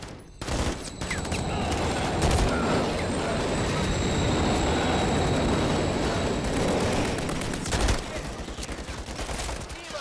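Train rumbling past amid heavy gunfire in the Call of Duty: Modern Warfare 3 (2023) video game, a dense, loud continuous roar with clattering bursts over ten seconds and a sharp crack near the end.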